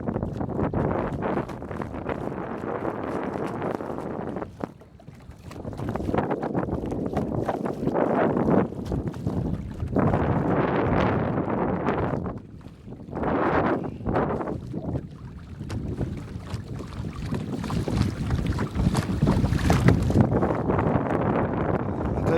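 Steady headwind buffets the microphone on a boat on open water, a continuous rushing roar with gusty surges and brief lulls, no talk.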